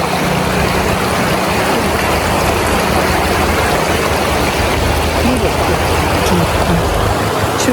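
A river used for rafting rushes past in Pahalgam, a loud, dense, unbroken roar of flowing water filling the whole stretch with no clear pauses.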